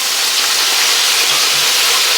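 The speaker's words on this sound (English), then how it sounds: "That's old school frying right here." Steady, loud sizzling hiss of thin breaded pork chops frying in hot oil, continuous and close, with no talking.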